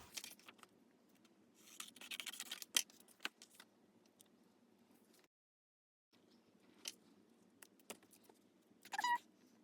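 Scissors trimming a paper journaling card for a junk journal give a few quiet, sparse snips and rustles, close up, with pauses and near-silence between cuts.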